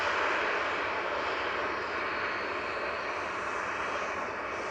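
An airliner on its flight from Aberdeen comes in to land at Manchester Airport, producing a broad, steady engine roar that holds at a fairly constant level and slowly eases off near the end, with no speech.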